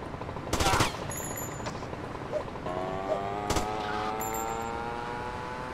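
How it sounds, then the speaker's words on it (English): Gunfire in Grand Theft Auto, a few loud sharp shots and a short burst over a continuous car engine drone, with faint talk in the background. "Four shots like a champ, yo, for real, man."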